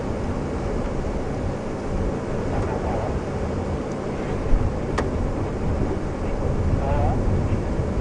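Steady broadband wind rushes across an open safari vehicle at Djuma Game Reserve, a continuous low buffeting roar with a brief thump midway and faint voices underneath.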